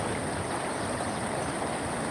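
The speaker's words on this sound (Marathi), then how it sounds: "पाण्याचा आवाज येतो का तुम्हाला" Dense, continuous roar of a fast-flowing flooded river, close and loud, with no voices.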